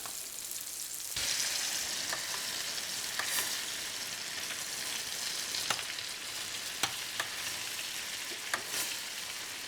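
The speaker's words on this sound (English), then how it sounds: "Now we put some butter in." Butter sizzles and fries in a hot pan for plaice fillets, a bright, steady crackling hiss that swells as the butter goes in, with occasional sharp pops and spits, close and continuous with no talking.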